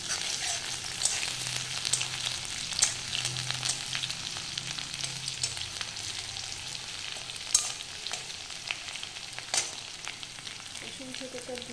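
Onion browning in a pan with crushed garlic, crackling and sizzling steadily up close, broken by occasional sharper stirring scrapes and pops, no voices.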